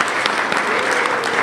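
Audience applause at a political party congress anniversary and closing ceremony, steady dense clapping filling the hall with a few murmured voices mixed in.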